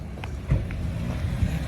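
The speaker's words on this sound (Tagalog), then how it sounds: "Sobrang hangin." Strong wind buffets the microphone with low rumbling gusts, a continuous roar that swells briefly partway through.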